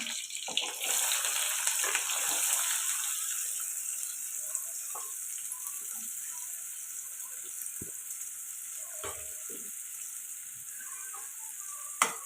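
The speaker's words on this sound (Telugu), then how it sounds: "ఇప్పుడు ఆయిల్ వేడవుతుంది కట్ చేసి పెట్టుకున్న పచ్చిమిర్చి అలాగే కట్ చేసి పెట్టుకున్న ఉల్లిపాయ ముక్కలు కూడా వేసేద్దాం" Green chillies and onion pieces frying in hot oil in a kadai, a continuous bright hiss and sizzle with occasional soft pops and stirring clinks.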